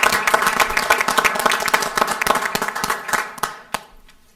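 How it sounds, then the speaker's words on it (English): Audience at a county board of commissioners meeting breaks into applause, a dense stretch of clapping that thins out toward the end, with a few louder isolated claps standing out. "I'd like to give y'all a round of applause."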